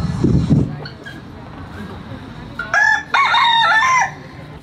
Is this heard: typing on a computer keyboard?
no